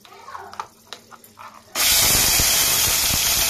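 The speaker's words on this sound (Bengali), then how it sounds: "তো এতে দিয়ে দেবো সেই বাটা পেঁয়াজ। তেলটা খুবই হিট হয়ে গেছে।" Onion paste drops into very hot oil in a home kitchen, bursting into a loud, sustained hiss and sizzle after a few soft clinks and faint sounds.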